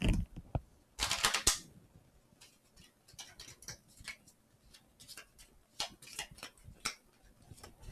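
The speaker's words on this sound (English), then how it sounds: "I'm going to shuffle these a bit more because I've been having bad luck with that" A deck of board game cards for a Frosthaven session being shuffled at the table, giving a fairly close burst of riffling card flutter followed by scattered light ticks and taps, with no talk.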